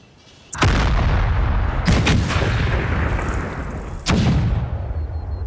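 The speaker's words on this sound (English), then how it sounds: "They're throwing all artillery to bear, and that is what has me on the side of worried a bit." Artillery fire in Empire Total War: three loud booming cannon blasts spaced about a second and a half apart, each followed by a long rumbling decay, with no talk.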